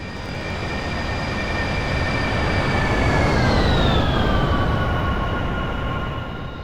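Boeing 747-400 jet engines in the Aerofly FS4 flight simulator during the takeoff climb: a steady, loud broadband roar with high whining tones that slowly drop in pitch as the power eases, continuous with no talking.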